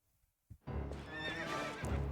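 Horse in Zelda Twilight Princess video game lets out a loud, drawn-out neigh after a brief near-silence, with a thump of hooves at the start and rumbling hoof sounds beneath the whinny.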